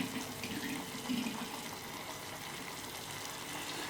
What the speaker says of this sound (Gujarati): એટલે આપણે એમાં થોડું પાણી એડ કરવાનું છે